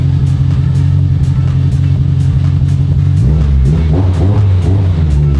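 A car in a home garage, restarted after long storage, fires up with a loud, close engine rumble and then revs climbing and falling in short bursts, with no talking.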